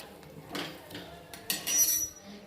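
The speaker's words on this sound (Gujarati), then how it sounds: "અને ધીમેથી હલાવવાનું છે." Tomato paste is stirred slowly in a pan over roasted green garlic and dried onion, giving soft scraping and a few light metallic clinks of a spoon against the pan, faint and close with no talk.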